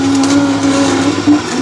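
An electric juicer runs steadily with apples and carrots inside, a loud whirring motor hum holding a constant pitch with grinding texture throughout, briefly surging near the end.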